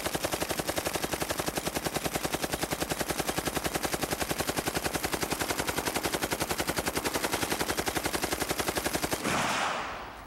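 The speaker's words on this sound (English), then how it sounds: "we'll crank off a little bit of the M60 here." An M60 machine gun fires one long, unbroken burst of rapid, evenly spaced shots, loud and close for about nine seconds, then stops abruptly, leaving a brief fading echo.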